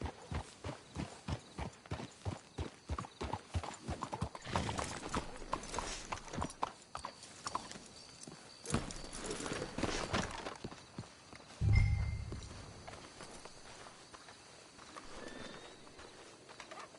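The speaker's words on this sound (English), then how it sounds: "Let's hitch the horses up ahead" Horses' hooves clip-clop steadily on the ground in the Red Dead video game, a close, even walking rhythm that carries on throughout, with brief thuds and a low bump partway through.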